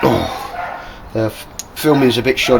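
A dog barks outdoors in wet, cold, windy weather. A few short, sharp barks come in bursts from fairly close by, mixed in with someone talking.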